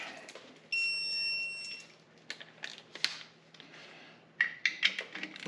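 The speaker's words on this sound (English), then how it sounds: "Torque wrench." A torque wrench tightens bolts on a Jeep during repair work, giving a series of sharp clicks and ratchet taps with brief tonal squeaks. The sounds are close but quiet, in a mostly still workshop.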